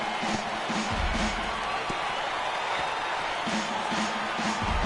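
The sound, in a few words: stadium crowd cheering in a baseball video game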